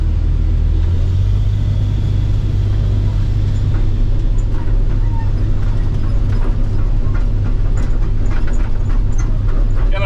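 An excavator engine rumbles loud and close as the machine drives over bumpy ground, a constant deep drone with rattling and clunks, no speech heard over it.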